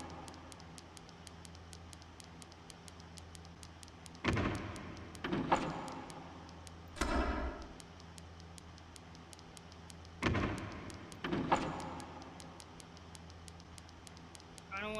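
A door slamming shut in the horror video game Five Nights at Maggie's, heard as a few sharp, loud thuds and clanks spaced several seconds apart over a steady low hum.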